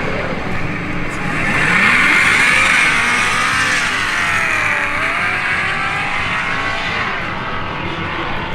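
Car engine revving hard out front of a shop, a loud, sustained roar with rising and falling pitch sweeps, close by and with no talk over it.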